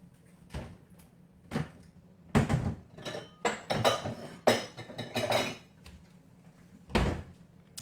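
Kitchen clutter being shifted aside and a bowl grabbed, a run of loud knocks, clatters and dish clinks in irregular bursts close by.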